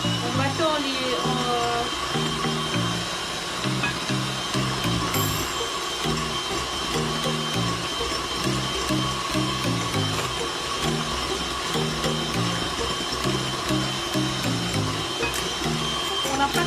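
An electric mixer beating cake batter for a pastry-cream cake while oil is added little by little, giving a steady mechanical whir with a regular, pulsing rattle throughout, close and loud.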